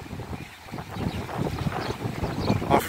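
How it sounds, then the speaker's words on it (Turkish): Steady wind gusts buffet the microphone over the low rumble of water and a boat at sea near a beach, rising slightly toward the end. "Hafif rüzgarlı."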